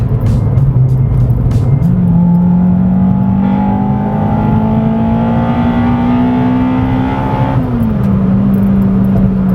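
A Honda Civic Type R EP3's K20A2 engine holds a loud steady drone, then revs higher and climbs smoothly for several seconds before dropping back as the car shifts.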